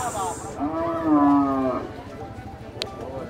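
A large carabao, a water buffalo, lows once in a long, deep, drawn-out moo at close range, with faint background noise around it.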